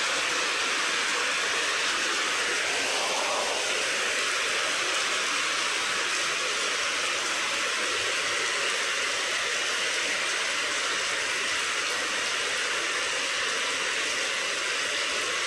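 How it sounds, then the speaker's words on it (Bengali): Steady, dense rain pours outside a balcony on a rainy day, a loud, continuous broadband hiss that holds unbroken for the whole stretch, close and enveloping, with no voices over it. "বাইরে কি সুন্দর বৃষ্টি"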